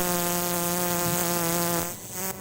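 Electric arcs from a DIY generator circuit built from a 24V DC e-bike motor driving a 220V output, giving a steady, loud, fly-like buzz with rich harmonics that cuts off near the end.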